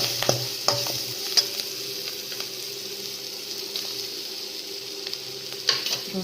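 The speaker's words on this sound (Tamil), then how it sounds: "நல்ல வெங்காயம் நல்லா வதங்கின பின்னாடி கூட துருவின தேங்காய் சேர்த்துக்கோங்க" Onions sautéing in a pan for a raw banana poriyal hiss steadily nearby, while a spoon knocks and scrapes against the pan at irregular intervals.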